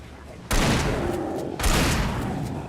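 Two heavy shotgun blasts boom about a second apart in the video game Alan Wake, each with a long rumbling tail.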